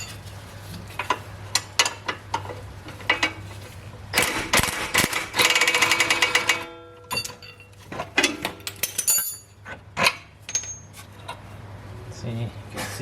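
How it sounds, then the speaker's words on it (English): A 14 mm bottom bolt on a 2011-2018 Jeep Grand Cherokee rear shock is undone with close metallic clinks and taps and a burst of rapid ratcheting clicks in the middle. "We have to undo the bottom bolt."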